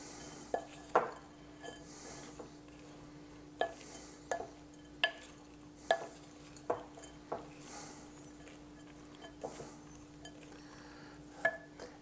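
A spoon stirs Christmas cake mix with spices in a bowl, giving a series of light clinks and scrapes at roughly one-second intervals, close and fairly quiet over a steady low hum.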